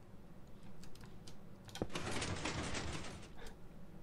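Minecraft piston door built from honey blocks opening, a burst of clicky mechanical clatter after scattered ticks, quiet and close, no speech.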